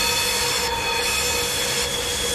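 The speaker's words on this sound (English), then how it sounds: "That train going beside me is really, really loud" Loud, steady roar and squeal of a train passing close alongside in the Train Simulator 2012 game, continuous throughout with no talking.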